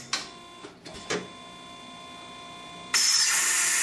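A Multi-Bender MR487 rule bending machine running no notch rule, giving a steady mechanical hum with a few clacks early on, then a sudden louder, broadband whir of the mechanism engaging.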